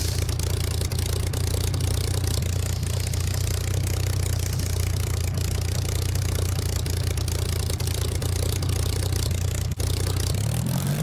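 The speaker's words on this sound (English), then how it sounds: "Taxiing now for takeoff" A vintage aircraft engine drones steadily at low power while taxiing for takeoff at Shoreham airfield, a continuous, fairly loud rumbling hum with no voices.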